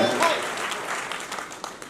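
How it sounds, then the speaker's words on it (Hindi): An audience at a Chhattisgarhi comedy poetry gathering in a cultural hall in Takhatpur claps in a steady wash of applause that fades gradually, while someone speaks over it. "तो एक बार तालियां भाई"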